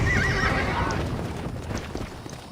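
A horse neighs and whinnies in the Red Dead Redemption video game, a loud close call that fades over a couple of seconds, with faint hoof clip-clop beneath.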